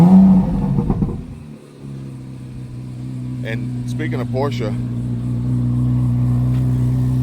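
A Chevrolet Corvette C8 Z06 engine, remote started, turns over with a brief burst, then settles into a steady, fairly loud idle hum while someone talks over it.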